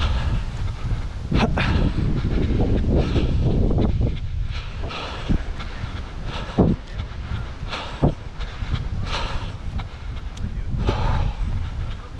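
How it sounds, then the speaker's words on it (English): Wind buffets the microphone during an outdoor 6K running race, a steady low roar with gusty bursts and brief thumps throughout, no voices. "you can hear the wind, but it's a little windy"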